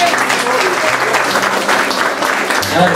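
Hearty clapping from guests at a rural church wedding in Pomacocha, Peru, loud and steady throughout, with low murmurs of voices mixed into the crowd.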